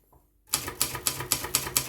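On a Silver Reed manual typewriter, the margin release key is pressed, then a run of about seven crisp, evenly spaced mechanical clacks follows close up after a quiet start.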